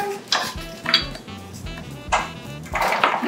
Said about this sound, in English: And now we're going to add this to the sheet pan as well